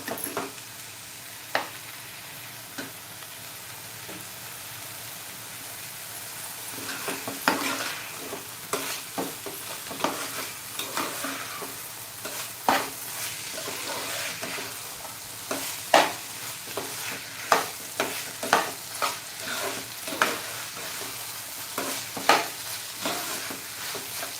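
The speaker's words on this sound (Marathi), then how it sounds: "राईस आणि या भाज्या चांगल्या अशा परतून घ्यायच्या आहेत" Masale bhaat rice and vegetables are stir-fried in a pan, with a steady sizzle and a run of spatula scrapes and stirring clicks that grow busier and closer together, with no talking.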